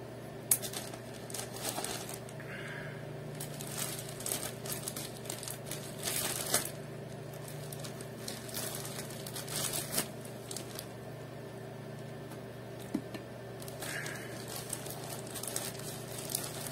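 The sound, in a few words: opening a package with scissors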